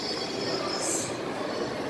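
A Vancouver SkyTrain passing near Richmond Centre mall gives a steady, moderately loud rail rumble with a brief higher squeal, heard from nearby outdoors.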